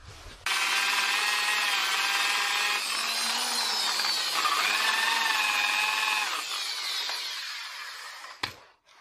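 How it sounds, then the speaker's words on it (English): Angle grinder working over an old Union bicycle frame, a loud steady whine with shifting pitch that runs for about eight seconds, then spins down and stops, with no talking. "So the plan is to just clean it up a little with the angle grinder."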